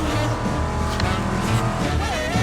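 Engine of an iconic 1980s car roars loud and steady while driving in The Crew Motorfest racing game, with a rising whine near the end and a faint voice mixed under it.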